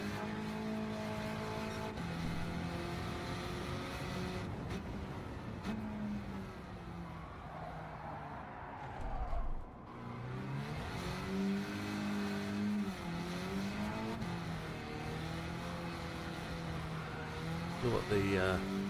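A small, short-wheelbase car in the racing game Gran Turismo 7 drones steadily, its engine pitch rising and falling as it accelerates and brakes, while someone talks over it.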